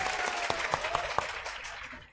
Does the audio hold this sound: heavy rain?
no